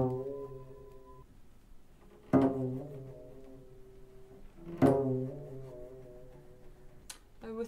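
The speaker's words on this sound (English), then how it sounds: "I have a very unusual technique, pizzicato technique." Cello pizzicato notes plucked with both hands ring out and decay, with two sharper, louder plucks standing out, each sounding deep and resonant.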